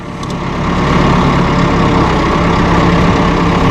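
A tractor engine with a power shuttle runs steadily at close range, a loud, even diesel rumble that swells slightly in the first half second and then holds constant, with no voices.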